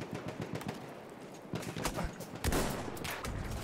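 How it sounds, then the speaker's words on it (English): Gunfire crackles in a military first-person shooter game, with scattered rapid shots and bursts popping irregularly, moderately loud with some busier volleys toward the end. "getting shot from behind"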